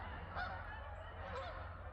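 Geese honking as they take off and fly away, several faint calls repeated over a quiet steady background, no talking.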